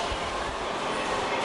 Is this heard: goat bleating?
no